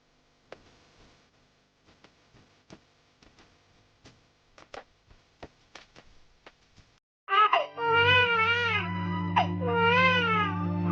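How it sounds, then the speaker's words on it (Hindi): A baby wails loudly and continuously after several seconds of quiet ticking clicks, the crying close and sustained to the end. "ये बच्चे रोने की आवाज कहाँ से आ रही है?"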